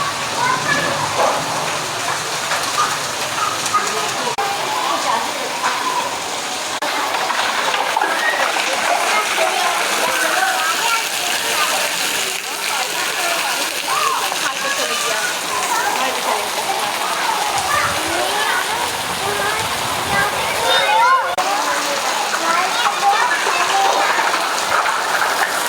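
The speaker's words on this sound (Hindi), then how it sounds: "बहुत तेज़ बारिश हो रही है" Heavy rain pours down steadily for the whole stretch with a dense, constant hiss and splatter, and muffled voices talk faintly beneath it.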